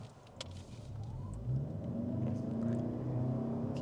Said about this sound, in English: The hybrid kick in.